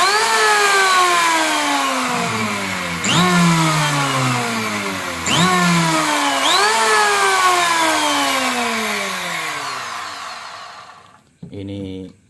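An electric wood planer runs loud and close, its motor pitch dipping and recovering in several repeated sweeps as it shaves a wooden board, then cuts off near the end.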